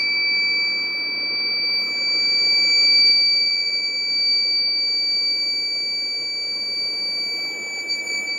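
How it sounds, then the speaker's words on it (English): A buzzer in a homemade rain-system electronics project sounds as one steady, piercing high-pitched tone, holding loud and unbroken throughout with no talk over it. "Can you hear the sound of the buzzer?"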